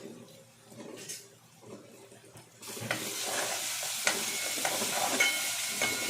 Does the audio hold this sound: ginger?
yes